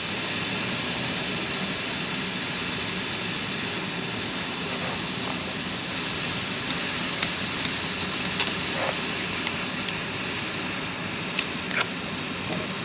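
Refrigerant hisses from a leaking expansion valve on a Ford F450 Power Stroke air-conditioning system, a steady close broadband rush with faint scattered clicks.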